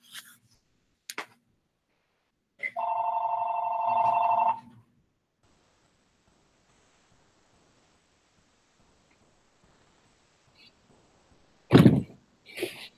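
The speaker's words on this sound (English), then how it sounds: "I accidentally turned my phone on." A phone rings once in a quiet indoor room, a bright electronic ring of about two seconds, with scattered thumps and handling sounds before and after and no talk.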